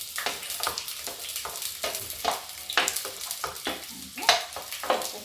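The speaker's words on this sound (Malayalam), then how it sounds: "എണ്ണ ചൂടായി, കഷ്ണങ്ങൾ ഇട്ട് കൊടുക്കാൻ പോവുകയാണ്" Vegetable pieces with onion, green chili, garlic and ginger frying in hot oil in a pan, giving close sizzling bursts and repeated stirring scrapes at moderate volume.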